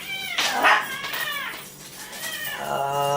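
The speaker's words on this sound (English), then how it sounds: "They will bark, they will meow." Several drawn-out, plaintive cat meows close by, rising and falling in pitch, with a steady low hum underneath.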